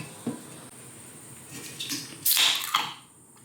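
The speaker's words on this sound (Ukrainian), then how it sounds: "Наливаємо цю іпашку." Exotic IPA beer from the German brewery Reeper B is poured into a glass, a brief hissing, gurgling splash of liquid that builds to a loud frothy rush and then stops.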